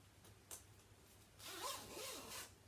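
A jacket zipper is pulled up in a quiet room, a couple of faint clicks followed by a clear rising zip stroke and a second shorter pull.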